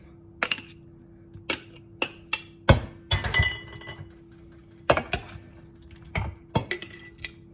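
Chopped tomatoes go into glass jars, heard as sharp close clinks and knocks of spoon against glass that come irregularly, with short scraping bursts between them.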